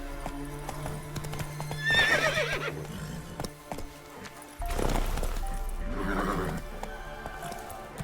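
Roach, the horse in The Witcher 3: Wild Hunt, gallops with steady hoofbeats and snorts, and a clear whinny rises around the two-second mark. The galloping pauses briefly, then the hooves pound again, loud and close.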